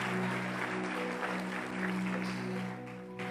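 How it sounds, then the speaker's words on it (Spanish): A congregation claps during a church service, a soft, steady wash of applause with a low hum underneath, fairly distant and fading near the end. "Dale un fuerte aplauso"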